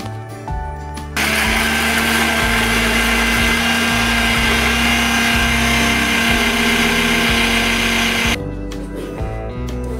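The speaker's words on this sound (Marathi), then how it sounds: "तोपर्यंत आपण हे मिक्सर लावून घेऊया." A kitchen mixer grinder runs loud and steady for about seven seconds as it grinds, with a constant whine that cuts off abruptly, quieter kitchen sounds before and after.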